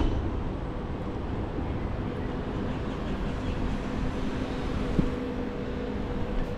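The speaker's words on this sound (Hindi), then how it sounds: "ये थी हमारी ट्रैम" A free Msheireb tram in Doha gives off a steady low rumble and hum while riding, with one brief click partway through and no voices.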